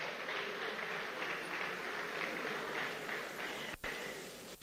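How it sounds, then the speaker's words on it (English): Audience at a democracy anniversary public lecture claps steadily as a senator walks to the podium, a faint, distant wash of continuous applause filling the hall. "I'd urge you to keep clapping."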